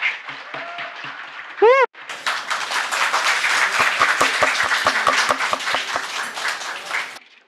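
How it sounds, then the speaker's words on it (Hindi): An audience at a company foundation day award ceremony breaks into sustained applause after a brief voice and a rising tone, with steady clapping that holds for about five seconds before stopping. "तालियां रुकनी नहीं चाहिए"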